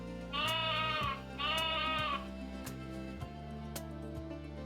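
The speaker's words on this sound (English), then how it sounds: "Sheep." Sheep bleating twice in quick wavering cries, loud and close, set over a soft background music track with no talking.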